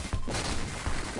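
Gunfire in the video game Contra Hard Corps bursts out as a brief, dense, noisy volley of shots and booms, loud and crowded, with no talk.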